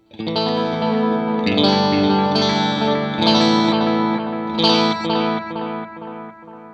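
An electric guitar strums chords through a Strymon Timeline delay pedal with its filter setting engaged, repeats trailing after each attack, with a slightly muted, dark tone that fades at the end.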